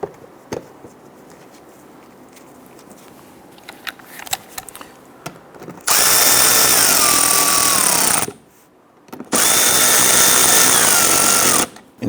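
A power tool drives the lower screws of the front bumper brackets on a 2011-2019 Ford Explorer in two long, loud whirring bursts with a high motor whine. A short pause separates them, and faint clicks and handling noise come before.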